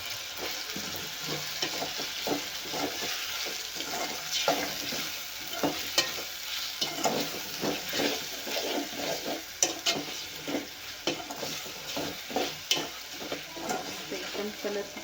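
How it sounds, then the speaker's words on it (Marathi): Eggplant, tomato and onion sizzle in a pan while a spoon stirs them, producing repeated scraping strokes over a steady frying hiss, close and moderately loud. "सवांगी आणि टमॅटो पण छान भाजले आहेत"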